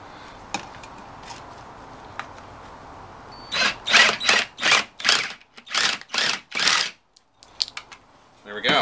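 A Sawzall reciprocating saw with a Torch blade bites into a small Jeep radiator can in a run of about eight loud, rhythmic rasping strokes, with a few faint clicks and taps around them.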